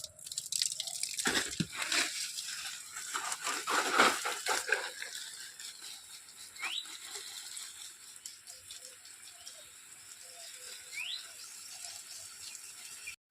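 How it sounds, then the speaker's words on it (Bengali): Water poured over garden plants outdoors on a hot sunny day gives a few seconds of splashing, then softer scattered drips and trickles against a faint outdoor background. "সব গাছগুলো একদম জলে চুপি দিতে হবে"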